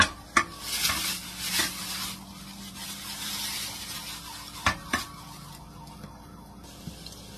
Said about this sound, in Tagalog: ang gagamitin natin pinakamantika is ito, butter. Ito lang tayo dito sa ating pan.